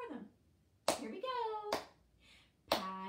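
A few claps from small children during a Patty Cake song at a library storytime, soft and scattered, separated by brief adult and child speech.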